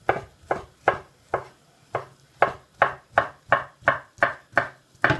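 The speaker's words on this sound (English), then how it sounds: "I'm going to get my knife, and I'm just going to cut it into strips" A knife cuts rolled meat slices into strips on a board, making a dozen evenly spaced, crisp thuds in a steady rhythm, close and clear with no talk.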